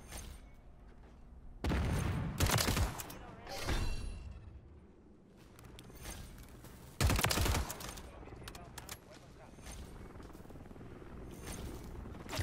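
Gunfire in Modern Warfare 3, loud close bursts of automatic fire in two main volleys with scattered shots between, amid game ambience and some player chatter.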